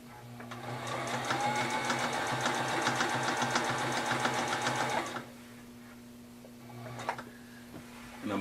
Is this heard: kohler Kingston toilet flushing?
no